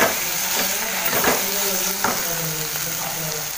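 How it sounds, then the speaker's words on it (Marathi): Wild kataal greens sizzling and frying in a pan, stirred with scraping strokes over a steady close hiss, the stirring coming in irregular bursts. "आणि आता जरा गॅस फास्ट करून फक्त 1 मिनिटाने मिक्स करून घेते."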